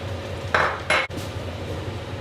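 A pot of Penang Nyonya style chicken curry being stirred, two short scraping clatters of a utensil against the pot over a quiet kitchen background, close and without talk.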